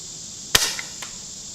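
A quiet .22 Aguila Super Colibri round is fired once, giving a single soft, sharp crack over faint background hiss, followed by a fainter tick about half a second later.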